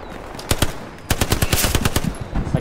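Machine gun fire in the tactical shooter Squad on the Kursk map, a short burst followed by a longer rapid string of loud, close shots with slight gaps between volleys.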